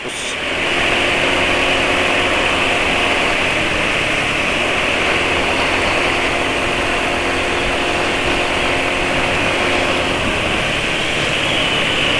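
A steady car engine idling close by, a smooth continuous hum with no variation in pitch, alone throughout.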